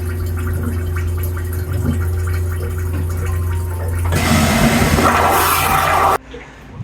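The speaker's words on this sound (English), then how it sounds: "So it's going to use more water during a flush." An Aquila 32 boat's marine toilet runs a normal flush: a steady pump hum gives way after about four seconds to a louder rushing water surge that cuts off abruptly near the end, with no talking.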